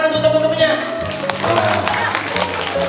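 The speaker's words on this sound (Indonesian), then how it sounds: "Tepuk tangan untuk teman-temannya." Schoolchildren at an outdoor class in Bojonegoro clap for their classmates, a scattered burst of hand claps that grows busier after the first second, heard under talking voices and a sustained tonal sound.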